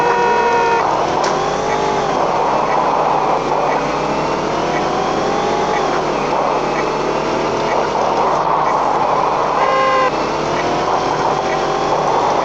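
Car engine from the mobile game Payback 2, a steady synthetic motor drone with shifting pitch and a faint music-like tone layer, continuous and loud throughout with no talking.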